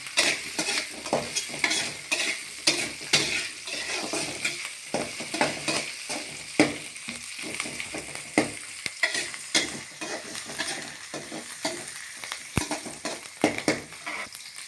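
Onions frying and sizzling in a pan while being stirred for a coriander rice dish, with a steady crackle broken by frequent scraping and stirring strokes close by, and no talking.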